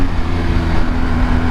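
2021 BMW R 1250 GS with a BT Moto ECU flash pulling hard in second gear, a loud, dense, sustained engine roar with a steady droning tone, close and uninterrupted by speech.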